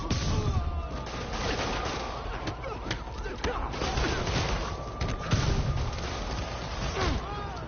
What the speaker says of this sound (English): That shootout's gonna get someone killed.